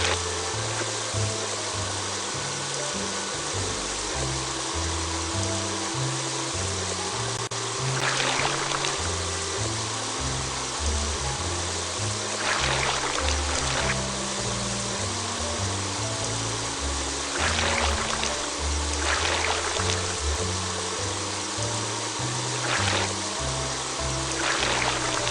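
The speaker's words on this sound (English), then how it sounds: "drag the water sprayer to rinse off the mud" A water sprayer rinses mud off a fire truck in a cartoon firefighter rescue game, a steady loud hiss of spraying water running for about twenty-five seconds, with a few brief splashy bursts over low background music.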